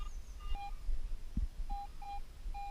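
Short, high electronic beeps from a Garrett AT Pro metal detector signalling iron sound four times at uneven intervals over a low outdoor rumble in a forest and faint handling noises.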